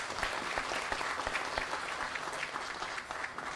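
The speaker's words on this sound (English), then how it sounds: "Why don't we give him a round of applause?" Audience applause at a Philippine mining industry club gathering, a dense, even sheet of many hands clapping that holds steady throughout, moderately distant and with no speech over it.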